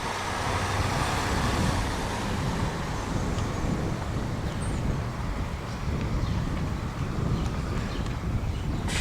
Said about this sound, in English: And there's the cars.